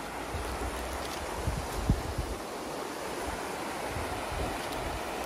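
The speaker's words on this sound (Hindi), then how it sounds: "आपको ये पानी की आवाज़ सुनाई देती है।" A river flows through a small Vermont town, a steady, moderately quiet wash of rushing water with a little wind noise, continuous and unbroken with no voices.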